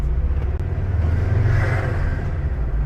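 Ford Focus ST hatchback driving with a steady low engine rumble and road drone, loud and close from inside the cabin, holding a fairly even note throughout with no talking.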